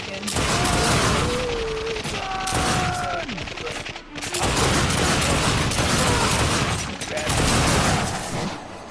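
Dense automatic gunfire in The Darkness 2 rattles in loud, nearly continuous bursts, with brief lulls and shouted game voices mixed in.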